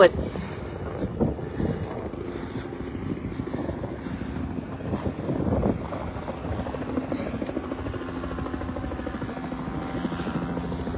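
Helicopter circling overhead at a police scene, a steady loud rotor drone with wind buffeting the microphone, continuous throughout.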